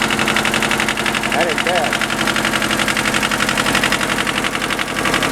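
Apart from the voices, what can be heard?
diesel tractor engine idling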